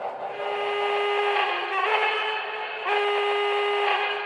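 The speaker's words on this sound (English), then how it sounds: "I like that whistle." A Shay steam locomotive sounds its whistle: three sustained, chord-like blasts, each lasting about a second with short breaks between them, heard fairly near and clear.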